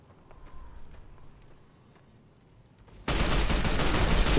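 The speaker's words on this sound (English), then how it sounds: "So as you can see, you can fire this weapon super quickly." Rapid fire from the All-American rifle in Fallout: New Vegas: after about three seconds of quiet background, a loud, dense burst of shots erupts and continues without a break to the end.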